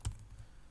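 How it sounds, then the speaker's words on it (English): A few quiet keystrokes on a computer keyboard as a command is typed, led by one firmer tap and then soft light clicks, close by and with no speech. "how I'll create it is I'll just type in python minus m"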